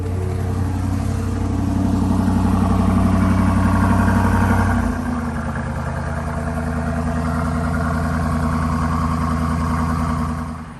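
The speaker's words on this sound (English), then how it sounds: "Let's go ahead and start this thing up." A 2022 BMW X5 M50i with a 4.4-litre twin-turbo V8 starts at the push of a button and settles from a loud, high cold-start rumble into a steady, deep idle, close up and with no talk.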